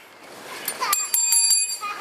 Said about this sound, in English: Hilo rings the bell and we're underway